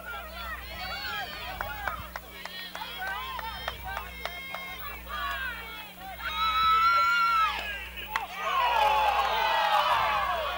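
Spectators at a high school girls' softball game react to a pitch, a crowd of voices rising into loud excited shouts and cheers that swell twice, with a steady low hum underneath.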